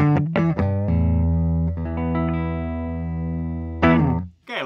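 A 2021 Epiphone Joe Bonamassa Lazarus Les Paul electric guitar rings out through an amplifier with distortion: a few quick plucked notes, then a long sustained chord, and a final strum cut short.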